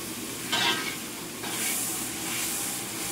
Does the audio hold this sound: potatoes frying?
yes